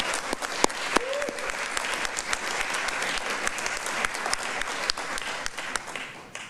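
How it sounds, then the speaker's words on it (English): A large crowd applauds steadily at a doctoral hooding ceremony, dense clapping filling the space with a few sharper claps standing out, continuing throughout without pause. "They deserve another big round of applause."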